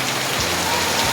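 Steady rain falls on surfaces outdoors, a dense, even hiss throughout the brief stretch with no voices.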